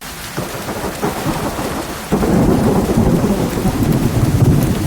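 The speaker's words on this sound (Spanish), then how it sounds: "La lluvia había empezado a caer, una llovizna fría y fina" Cold, fine drizzle falling steadily outdoors, with a dense wash of rain joined by deep rolling thunder that swells and grows louder partway through, no voices present.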